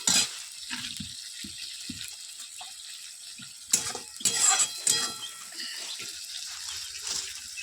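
Dried chillies and garlic paste stir-frying in a pan, a soft steady sizzle broken by scraping stirs and clinks of a utensil against the metal, close and fairly quiet with no talk.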